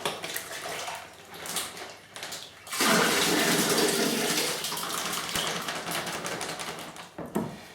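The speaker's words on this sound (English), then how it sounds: "I'm still going to put some warm water in, just make sure we get all of the grape juice" Warm water pours steadily into a wine-making fermenter to rinse out the remaining grape juice from a wine kit, a loud continuous splashing rush after a few seconds of quieter handling noise, with no talking.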